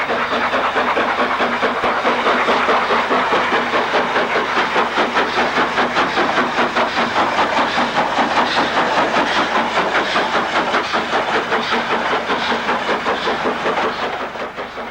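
Standard Class 5 steam locomotive 73028, bound for Birmingham, passes the Pike's Pool lineside spot, a loud, steady chuffing exhaust beat with rail clatter that holds for about fifteen seconds and eases slightly at the very end.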